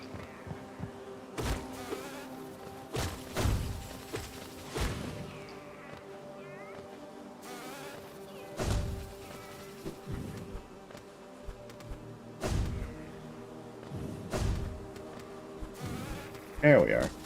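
Large bees buzz in a video game, coming as repeated short bursts of droning that swell and fade at irregular intervals over a low steady hum, with a person talking now and then.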